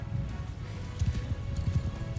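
Cavalry horses gallop in Mount and Blade Bannerlord, a dense, continuous drumming of many hooves with a low rumble beneath, steady and fairly close throughout.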